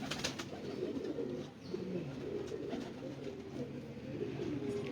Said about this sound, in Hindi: सियालकोटी इमाम साहब वाले कबूतर